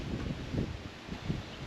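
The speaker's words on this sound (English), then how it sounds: "Another beautiful windy day down here." Steady wind blows across open farmland in a continuous broadband rush with gusty low rumbles, close to the microphone and alone with no speech.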